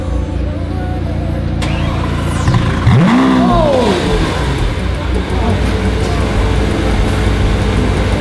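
A Lamborghini Aventador S engine revs loudly and close, its pitch sweeping sharply up and then falling away, over a steady idle and traffic-like rumble.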